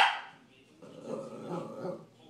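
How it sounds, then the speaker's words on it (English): A puppy barks at a poster indoors: a loud bark opens, followed by lower, softer yips and grumbles. A person speaks nearby. "Stop barking on my poster."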